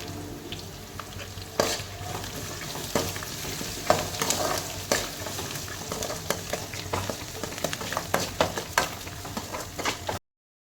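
Masala for fish kulambu sizzles in a pan as it is sautéed, with repeated sharp scrapes and taps of the stirring spoon over a constant close frying hiss.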